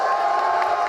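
A crowd cheers and whoops at a Yu-Gi-Oh championship final, a brief, steady wash of massed voices with no break.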